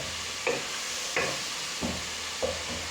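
Onion fries quietly in a little oil in a pan under a soft steady sizzle, with four evenly spaced stirring scrapes.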